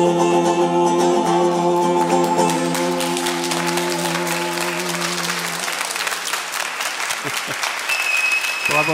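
An audience applauds after a children's sing-along of a song about a whale, steady dense clapping that follows a held final sung chord and tapers slightly toward the end.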